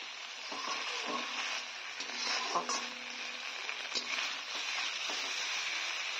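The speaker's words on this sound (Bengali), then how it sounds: "মশলার কাঁচা গন্ধটাকে দূর করার জন্য আমি মশলাটাকে আগে ভেজে নিচ্ছি" Spice paste frying in a pan with very little oil for a cabbage curry, a steady close sizzle broken by occasional scraping stirs.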